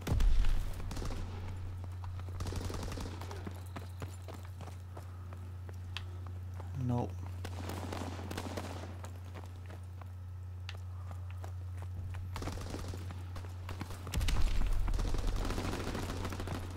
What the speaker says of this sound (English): A lot of gunfire going on over here.